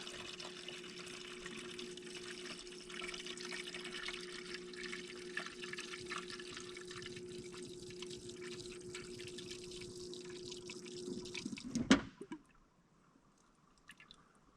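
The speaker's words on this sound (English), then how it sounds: "We'll wait till it stops gurgling." Coolant gurgles and trickles steadily as it flows into an engine in a workshop, a continuous liquid burble that stops abruptly near the end, leaving near silence.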